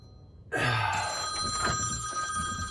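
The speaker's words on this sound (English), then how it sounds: "Why does the phone always ring while I'm recording?" A telephone bell rings loudly and close by in a basement during plumbing work, a sustained metallic trill that starts abruptly and keeps ringing to the end.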